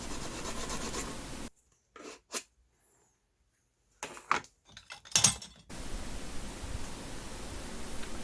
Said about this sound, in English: you want to smoothen off any of the rough edges either with a file